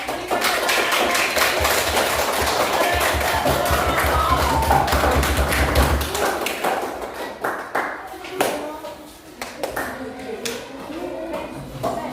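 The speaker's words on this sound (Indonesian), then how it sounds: "Kita berikan aplaus." Classroom applause for a student group after its presentation, a dense stretch of many hands clapping that carries on for several seconds, then thins into scattered claps and a few taps as talk resumes.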